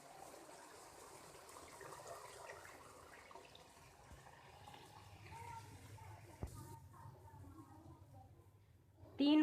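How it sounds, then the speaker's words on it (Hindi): Water pours steadily into a cooking pot of green chicken pulao with fried masala and green chilies, a soft continuous rushing that ends with a brief louder splash. "अब पानी डालेंगे।"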